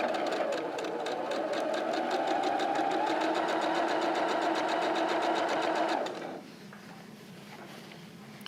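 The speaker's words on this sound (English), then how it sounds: "I'm going to give it a little back stitch at the beginning and the end" A sewing machine runs continuously for about six seconds, stitching a fabric face mask with a back stitch at the start and end, close and even, then stops abruptly, leaving quiet room tone.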